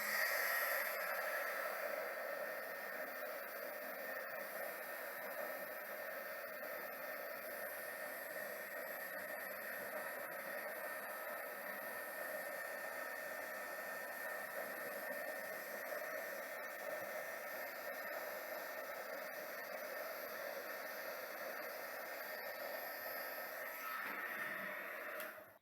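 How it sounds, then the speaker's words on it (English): A heat gun blows steadily to melt embossing powder in a papercraft stamping project, a continuous airy whoosh that holds level and close for the whole stretch, with no talking over it. "pull out our heat gun one last time and heat it up"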